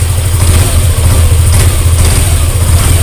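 Yamaha Lexi scooter engine running close by, a steady low mechanical hum with slight revving fluctuations, loud and alone with no talking.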